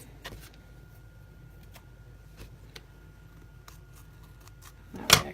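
Scissors snipping through recycled box cardboard at close range: quiet, sparse clicks and cuts, ending in a louder closing snip.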